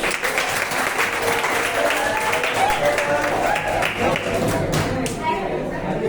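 A student audience in a discussion session claps, a continuous, fairly loud wash of hands sustained for several seconds with a few louder taps near the end.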